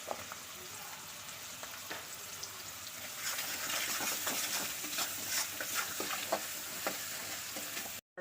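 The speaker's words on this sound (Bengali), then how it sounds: "ভাজা হয়ে গেছে" Food fries in a pan with a steady, fairly quiet sizzle and intermittent stirring scrapes that grow busier midway, with no one talking.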